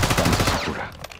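A rapid burst of video game gunfire, automatic shots rattling in quick succession, then trailing off into fainter echoing pops.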